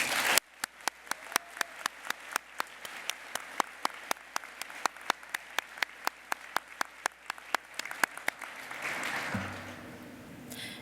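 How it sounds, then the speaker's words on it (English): Applause for a community service award winner at a Python conference, sounding as a sparse run of distinct, sharp claps that repeat steadily over a quiet room before swelling into a softer wash of clapping near the end. "let us give him a round of applause"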